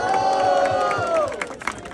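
A rap battle audience cheers and shouts for KPV's rhymes, a dense, loud crowd roar that tapers off near the end.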